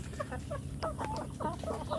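Free-range village chickens in a netted outdoor run cluck repeatedly in short, overlapping calls over a steady low background hum, with no talking.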